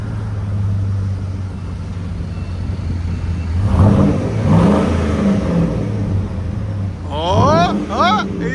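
A GMC Sierra pickup engine revs with its stock muffler removed, a loud, rough drone rising in a couple of surges over a steady idle, while people talk nearby throughout.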